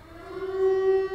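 A civil-defense air raid siren from the film Silent Hill, a steady sustained wailing tone that holds loud and close for the brief moment, with no speech over it.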